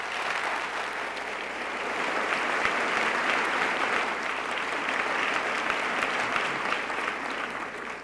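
An audience applauds a speech honoring a retiring community figure, with dense, steady clapping from a large crowd filling the room, holding at an even level throughout before tapering slightly at the end, with no speech over it.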